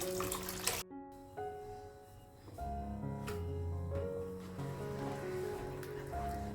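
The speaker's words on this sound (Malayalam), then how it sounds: "ഇനി നമുക്കിത് 1/2 കപ്പ് ചൂടുവെള്ളം ഒഴിച്ചു കൊടുക്കാം." Half a cup of hot water poured into a potato bhaji curry (poori masala) in a pan, a steady splashing pour and bubbling that runs throughout at a moderate level.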